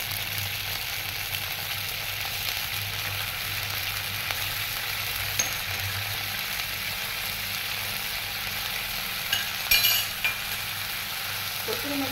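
Bay leaf and a pinch of chili powder sizzling in hot oil on a gas stove, a steady close frying hiss throughout, with a brief clink of a utensil near the end.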